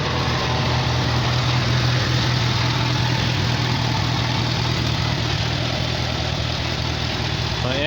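A Farmall Cub tractor engine idles steadily and continuously at close range, giving a constant low mechanical drone with no talking over it.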